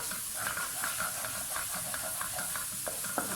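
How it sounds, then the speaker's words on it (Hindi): Masala roasting in a pan for Lahori chickpeas gives a continuous hissing sizzle, broken by rhythmic scraping strokes as it is stirred, heard up close without any voices. "ये मसाला हमारा ऑलमोस्ट भुन चुका है।"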